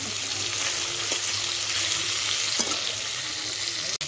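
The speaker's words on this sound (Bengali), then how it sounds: "মাছগুলো সব ভাজা হয়ে গেল" Small pond fish frying in a pan of hot oil sizzle loudly and steadily at close range, with faint stirring clinks and a sharp knock at the very end.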